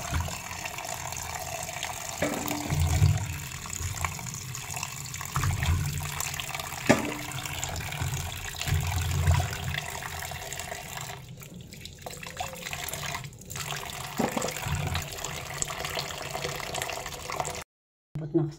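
Cassava root is washed under a running kitchen tap, a continuous close splash and trickle of water with occasional soft knocks and handling sounds. No talking is heard.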